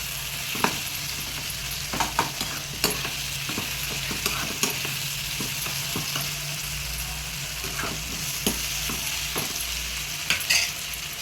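Tomatoes sautéing in a pan for dhaba-style paruppu keerai, a steady sizzle punctuated by irregular scraping stirs and clinks of a utensil, heard up close with no speech.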